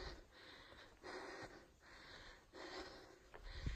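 A hiker pants at the top of a steep climb near Wayah Gap in the Nantahala Wilderness: faint, close, rhythmic heavy breaths, roughly four in-and-out cycles with no talk.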